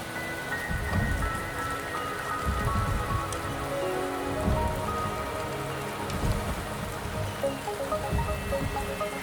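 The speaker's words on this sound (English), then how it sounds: "The rain is subsiding, and the sky will soon clear." Rain falls in the video game Wuthering Waves as a steady, dense patter on surfaces with low rumbling swells underneath, moderately loud and continuous, with no voices.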